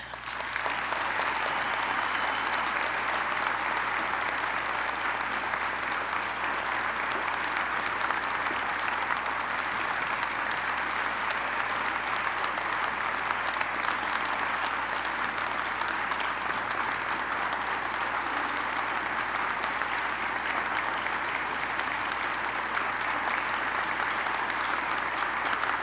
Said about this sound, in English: Please join me in applauding each one as we recognize them for their service.